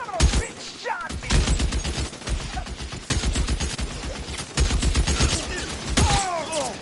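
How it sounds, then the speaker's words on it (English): Gunfire in the L.A. Noire video game, rapid bursts of machine-gun fire in a dense fusillade crackling through most of the stretch, loud and close, with shouted voices breaking in now and then. "Somebody put some fire on that guy!"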